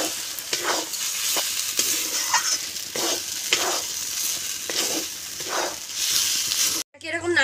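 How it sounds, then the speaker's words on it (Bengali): Mashed taro stirred in a pan with turmeric, chili powder and salt, a continuous frying hiss with repeated scraping strokes of the spoon at a steady pace, ending in a brief clatter. "এরকম নাড়তেই থাকতে হবে, নাহলে এটা তলায় বসে যাবে।"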